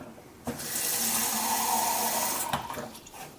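A filtered-water kitchen tap with a ceramic cartridge opens and runs steadily into a sink for about two seconds, a close, even hiss of flowing water, then shuts off.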